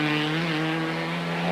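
A Ford Sierra race car engine at Oulton Park, a steady loud droning note holding at high revs for the whole short stretch, close and alone with no talk.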